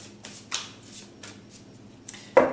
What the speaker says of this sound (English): I feel like 2 shuffles here,